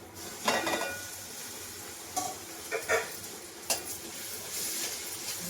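Onion frying in an uncovered pan gives a steady sizzle, punctuated by a few sharp scraping and clinking spoon strokes against the metal, close and fairly loud, with no talking.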